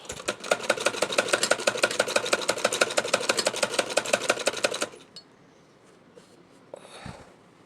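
Sewing machine stitching a neck binding strip onto a kurti runs in a fast, even, rattling burst for about five seconds, then stops, leaving quiet fabric handling and a soft thump.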